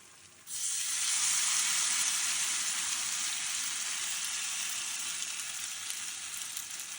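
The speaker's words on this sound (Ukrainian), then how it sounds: "Ось так викладаю картопельку, олії багато." Grated potato pancakes dropped into plenty of hot oil, bursting into a loud steady sizzle that starts abruptly and holds, fading only slightly over several seconds.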